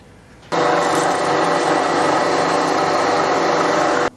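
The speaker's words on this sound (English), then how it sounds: "drill and tap a hole for a clamping grub screw" A drill biting into metal while making a hole for a clamping grub screw on a Webster model engine part held in a vise, a loud steady whine that starts abruptly and runs unbroken for several seconds before cutting off.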